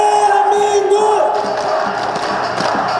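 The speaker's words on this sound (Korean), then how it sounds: "너무나 함성 소리, 대한민국을 외치는 소리가 듣기 좋고 힘이 납니다만은" A large crowd at an outdoor political rally on Geumnam-ro in Gwangju chants and shouts in unison, loud and sustained, with rhythmic thumps under the massed voices.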